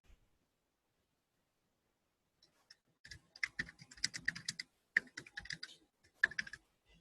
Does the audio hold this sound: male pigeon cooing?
no